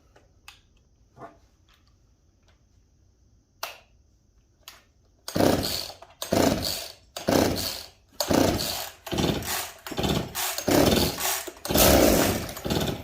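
A Jonsered chainsaw being pull-started with the choke on, a few quiet handling clicks and cord pulls before the engine fires and runs loudly in rhythmic bursts of revving, close by.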